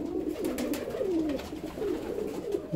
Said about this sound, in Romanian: După cum puteți observa, porumbeii sunt foarte vioi.